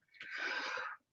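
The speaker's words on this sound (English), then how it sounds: "Uh-oh, sneezing." A single close sneeze, a sharp inhaled build-up bursting into a breathy spray lasting about a second, caught in a quiet room where someone is painting with thick paint.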